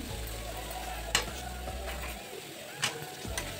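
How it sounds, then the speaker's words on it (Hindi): Chopped onion, green chili and garlic masala frying over high heat as filling for stuffed ridge gourd: a steady sizzle with a few sharp scraping stir clicks, close and without talk. "तेज़ आंच पर हम 3 से 4 मिनट इसको भूनेंगे"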